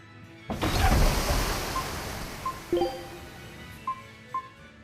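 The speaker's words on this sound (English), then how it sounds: "Scout ship setting sail." A ship setting out to sea in the Tales of Berseria game: a sudden loud rushing swell like surging waves and wind, slowly fading, followed by a few soft, sparse musical chimes.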